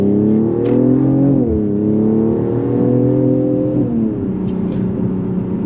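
A Mercedes-AMG GLE 53 Coupe with a mild-hybrid starter generator accelerates hard, its engine note rising steadily and loud with brief gear-change dips, a sustained close revving roar without talk.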